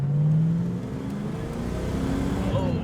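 A Ford Mustang GT engine pulling at wide open throttle while driving, a loud steady droning roar with rising pitch and a slight dip midway, heard from inside the car.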